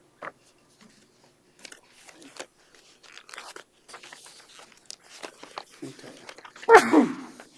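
A single sharp sneeze bursts out near the end, loud and close, after a stretch of faint rustling and scattered small sounds during a county board hearing.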